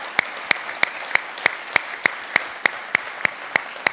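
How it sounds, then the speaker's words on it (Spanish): Audience at a justice and institutions forum claps in rhythmic unison, sharp evenly spaced claps about three per second over a low crowd murmur. "Para quien también creo que vale la pena un aplauso"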